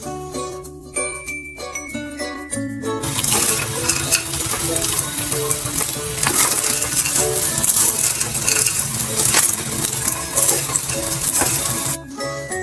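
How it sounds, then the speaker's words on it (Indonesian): Seasoned potatoes sizzle in a frying pan while being stirred quickly, giving a dense, steady crackle with scraping and clinking of the utensil after a quieter start. "Langsung diaduk cepat hingga bumbu tercampur rata."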